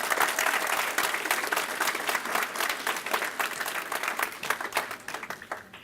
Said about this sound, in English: Give yourselves a round of applause because you made it